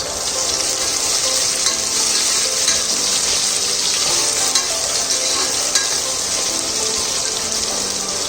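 Onions frying in ghee for mushroom biryani, a loud continuous sizzle with occasional stirring scrapes, close and steady throughout.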